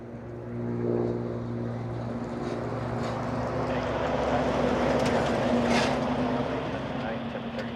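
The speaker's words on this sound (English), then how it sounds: "We have a big lorry going next to us, everybody. It's gonna get a little loud right next to us." A Mack truck drives past close by on a road near an airport, a loud, steady low rumble that swells and lingers for several seconds under a faint background of voices.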